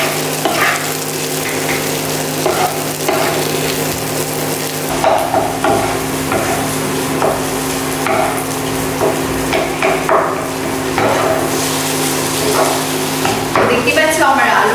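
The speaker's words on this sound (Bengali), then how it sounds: "এবার আমি এগুলো আবার ভালো করে নাড়িয়ে নাড়িয়ে একটু ফ্রাই করব" Mashed potato filling for papad patties sizzles steadily in a pan while it is stirred, with intermittent scraping and knocking of the utensil throughout.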